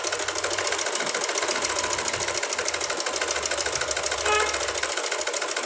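A Lakshmi sewing machine set to stitch length 10 runs at medium speed, giving a continuous close, even mechanical whirr and rapid needle clatter that holds steady throughout.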